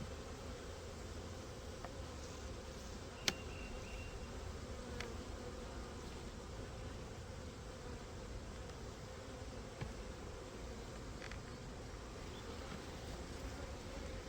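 Honey bees from two packages swarm around wooden hive boxes, making a dense, steady buzz close by that holds for the whole stretch, with no voices over it.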